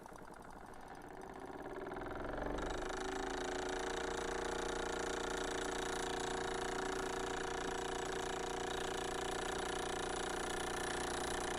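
A small Mamod live steam engine spins up in reverse, building over a couple of seconds into a steady, close mechanical whirring and chugging that runs on evenly without talk.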